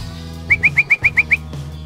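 A songbird gives a quick run of seven sharp, evenly spaced chirps, close and clear over a low steady hum.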